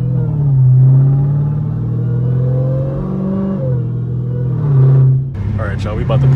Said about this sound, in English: About to pull into that bitch loud as hell. Make sure they can hear this bitch catless now.